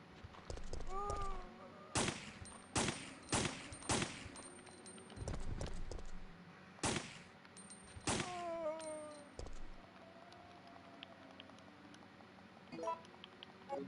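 Loud single gunshots go off in Resident Evil 3: Nemesis, about eight sharp blasts spaced irregularly across the span, with a creature's groans and game noises between them.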